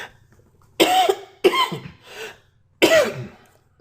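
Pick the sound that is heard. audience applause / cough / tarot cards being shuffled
cough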